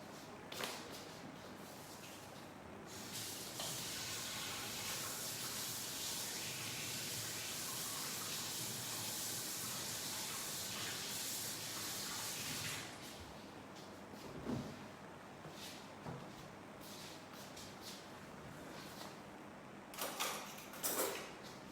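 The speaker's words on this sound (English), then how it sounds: "Let me wash my hands first." Tap water runs steadily for about ten seconds while hands are washed in a home kitchen during baking, followed by softer splashes, clatter and brief movement sounds.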